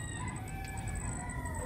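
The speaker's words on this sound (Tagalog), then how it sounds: "Kapoging manok nito." A bulik gamefowl rooster crows and clucks at a gamefowl festival, sounding steady and fairly close against a constant background hum, with no voices.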